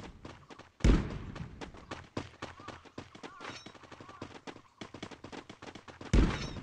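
Gunfire in Garena Free Fire, rapid bursts of automatic shots with two heavy booming blasts at the start and end, loud and close throughout.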